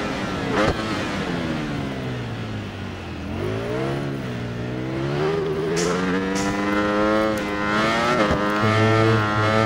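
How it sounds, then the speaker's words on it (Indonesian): Ducati motorcycle engine in the racing video game Ride 4 revs continuously, its pitch climbing, dipping and swinging with throttle changes through corners, loud and steady for the whole stretch. "mesin itu undut-undutan lah."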